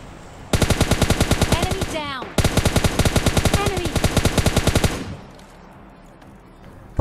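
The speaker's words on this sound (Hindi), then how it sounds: "यहीं पर ये बंदे को मैं तो इजीली ग्रोजा से जंप फायर करके नॉक कर देता हूँ" Groza rifle fired in rapid automatic bursts while jumping in PUBG Mobile Lite, two long loud strings of shots with a brief gap between them, then quieter game ambience.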